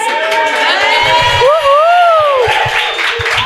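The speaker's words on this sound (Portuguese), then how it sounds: "vocês estão ouvindo barulhos, é porque a gente tá com uma plateia aqui ao vivo" Live audience at a church podcast recording, a lively crowd whooping and cheering with scattered shouts and bursts of applause, loud and close, with people talking over it.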